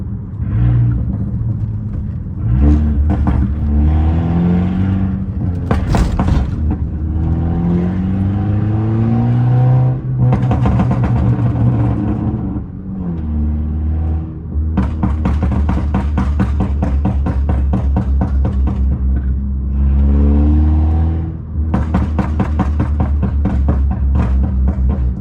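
A Mercedes-Benz A250 with a Stage 1 tune revs hard while driving, its engine note rising and falling in repeated loud surges with a steady close rumble throughout.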